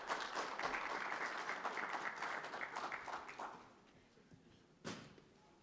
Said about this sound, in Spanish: para lo cual solicito un gran aplauso